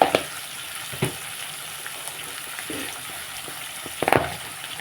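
Sliced onions sprinkled with salt fry in a pan for a poori potato and besan curry, a soft continuous sizzle broken by a few sharp stirring knocks, one near the start and a cluster near the end.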